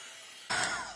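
A heat tool switching on to dry ink on a stamped card, a sudden breathy whoosh of blowing air that starts halfway through and holds steady, near and moderately loud.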